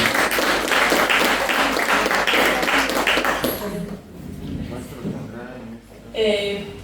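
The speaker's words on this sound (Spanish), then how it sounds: "Les damos un fuerte aplauso" An audience gives a presenter a strong round of applause, dense clapping filling the first three and a half seconds before it fades and a voice starts speaking into a microphone.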